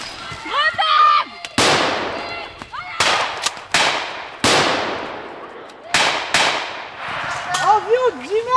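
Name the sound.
grenade explosion during military training exercise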